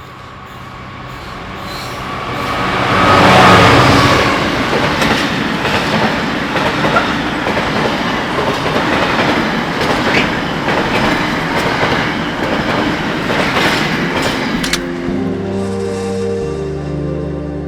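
A freight train followed by a southbound HST to Glasgow passes on Scotland's Highland Main Line at a freezing dawn, a loud sustained roar and rattle of wheels building, then fading as a low engine tone lingers.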